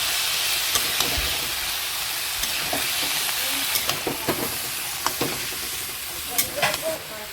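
Vegetables frying in a pan in a home kitchen, giving a steady broadband sizzle with intermittent stirring clicks and scrapes throughout.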